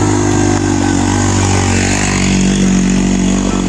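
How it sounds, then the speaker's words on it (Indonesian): A motorcycle engine drones loud and close as it passes by on a village road near a mountain, steady revving throughout with no voices. "ada motor lewat"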